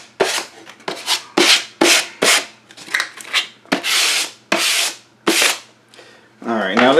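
Hand sanding of wood pieces for a homemade bench hook, heard as a series of rhythmic, close rasping strokes repeating roughly every half second, fairly loud with no talking.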